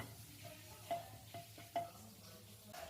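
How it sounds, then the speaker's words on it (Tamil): Soft sizzling of chilies and curry leaves roasting in a pan with a few light stirring scrapes, quiet and close, with no voices. "கொஞ்சமாக கருவேப்பிலையும் சேர்த்து அதையுமே நல்லா வறுத்து எடுத்துக்கோங்க"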